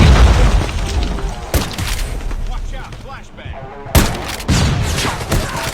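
Shotgun blasts in Call of Duty Mobile: a few heavy, booming shots spaced a couple of seconds apart, each a sharp loud crack with a rumbling tail, amid game noise.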